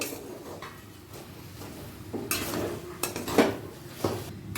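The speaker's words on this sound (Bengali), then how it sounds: "এবার ঢাকা খুলে দেখে নেব কত দূর সেদ্ধ হলো" A lid comes off a pot of red spinach cooking in the kitchen, with a few sharp, close metallic clatters and clinks of lid against pot spaced over the last couple of seconds above a low background hiss.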